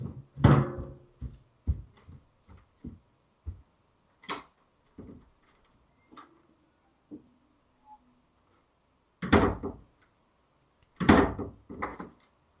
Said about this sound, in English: Somebody's at the door.